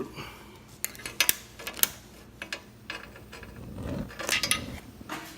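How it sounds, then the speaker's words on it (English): A lid set onto a pot of fig syrup, giving sharp metallic clanks and rattles in a quick irregular cluster, close and fairly loud with no talk. "And we're going to put a lid on it."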